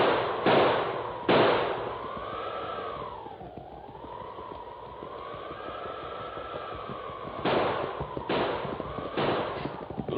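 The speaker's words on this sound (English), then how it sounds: "he pulled the heavy 6-gun from under his mackinaw and began firing" Sharp gunshots from a heavy six-shot revolver crack, two early then a quick run of four, with a wavering, howling tone drifting between them.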